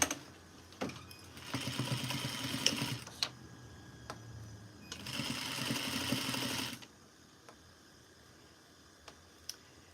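A sewing machine stitches a duster from Simplicity pattern 8059, running in two steady bursts of a few seconds each with a pause between, fairly close and alone with light ticks.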